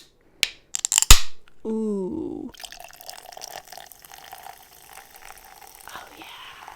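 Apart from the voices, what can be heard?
opening and drinking sparkling water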